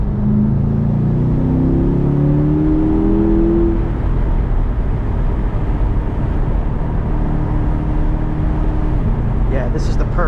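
A C8 Corvette V8 pulls hard on a straight UK countryside B-road, its engine note climbing through gears, then settling into a loud, close cabin drone.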